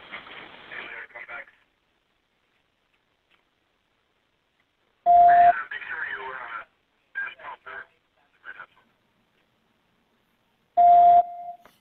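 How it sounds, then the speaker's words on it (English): Phone line beeping while a call waits to be answered, a steady electronic tone recurring in two loud short bursts several seconds apart, with a person talking between them. "It's going to beep for a minute before they pick up."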